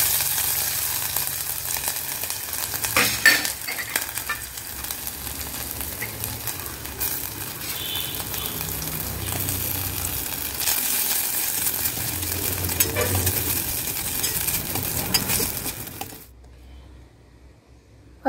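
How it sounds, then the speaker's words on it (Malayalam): Ginger frying in hot coconut oil, a steady close sizzle with occasional clinks and stirring scrapes, continuing for a long stretch before dropping to near silence. "നമ്മുടെ ഇഞ്ചി വറുത്തത് റെഡി ആയിട്ടുണ്ട്."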